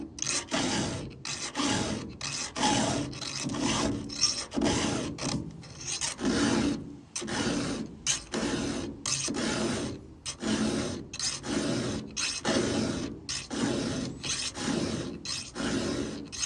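A file rasps steadily through a chainsaw chain on a Stihl 500i, with repeated short strokes in an even rhythm and close, fairly loud scraping.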